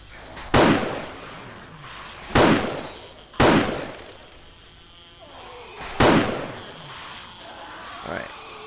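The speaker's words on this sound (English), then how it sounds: "Those stun guns are loud." Four loud, sharp stun gun shots ring out in 7 Days To Die, spaced irregularly over several seconds, each with a fading tail, plus a fainter fifth pop near the end over quiet game ambience.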